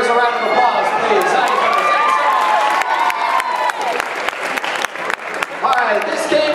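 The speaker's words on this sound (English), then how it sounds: "Please give these audience members a round of applause, please." Improv comedy audience applauding audience volunteers, loud, dense clapping with some cheering that thins toward the end as scattered claps and chatter remain.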